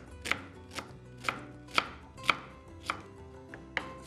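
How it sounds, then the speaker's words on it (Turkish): A knife finely chops onion on a cutting board in a steady series of crisp, close taps, about two per second, with no talking. "soğanımızı doğrayalım"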